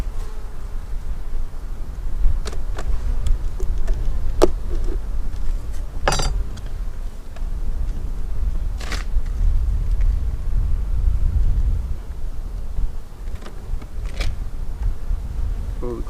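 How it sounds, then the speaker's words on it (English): Bees swarm around an opened beehive during a March brood inspection and hive split, giving a steady, close, low buzzing hum with occasional light clinks of hive equipment. "Flying bees can go back where they belong."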